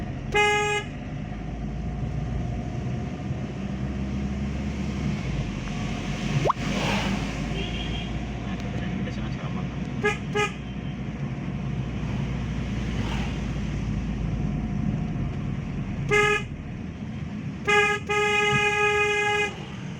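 Jeeps climbing the Thalavadi road, with steady engine and traffic rumble throughout and several short bursts of horn honking, some close and loud, clustered near the start and end.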